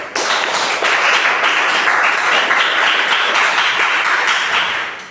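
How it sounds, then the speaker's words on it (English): A classroom of students claps for a classmate, a loud, close, even burst of many hands that swells quickly, holds steady, and tapers off at the end. "Give applause to Hamid."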